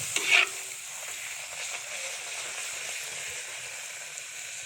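Paratha frying in hot oil in a home kitchen, a steady, close sizzle that flares into a brief louder burst at the start, then settles into an even crackling hiss with no talking.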